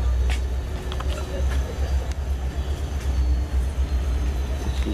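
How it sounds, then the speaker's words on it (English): A freight train moves through Plant City, Florida, on the way from the Yeoman sub to the Plant City sub. A deep, steady rumble carries a faint metallic rattle and a few sharp clanks, all fairly near. "Got another train here that's going from the Yeoman sub to the Plant City sub into the Bone Valley."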